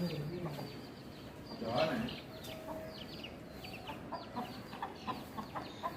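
A hen and four chicks cluck and peep in a loose, irregular patter at close range during an evening outing in Bahrain, with faint voices and background noise running underneath.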